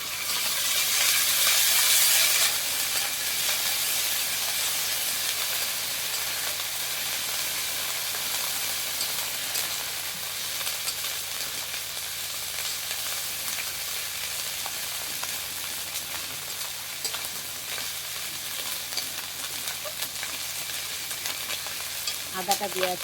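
Meat fries in a kadai with ginger, garlic and onion paste, giving a steady sizzle and hiss. Occasional stirring scrapes sound through the frying, and no one speaks.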